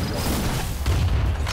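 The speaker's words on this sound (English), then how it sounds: "There's just too many explosions going on" Explosions in the video game Brawlhalla go off in a dense run of deep, rumbling booms, loud and nearly continuous throughout.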